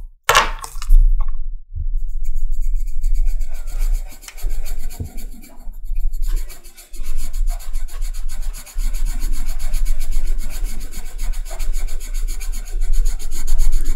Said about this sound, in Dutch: Vind ik zo'n rustgevend geluid, een potlood die inkleurt.